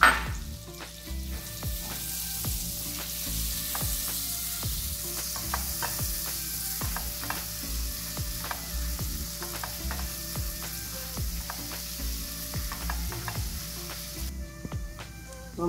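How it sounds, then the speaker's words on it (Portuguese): Garlic frying in a pan as the base for a sauce, a constant close sizzle broken by repeated clicking, ratcheting taps of stirring, with no voices. "Vamos colocar a outra metade do alho."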